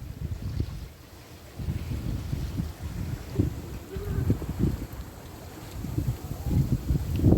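Steady wind rush and low water sloshing against a hull as a sailboat moves under sail downwind in an east wind, with a faint voice now and then.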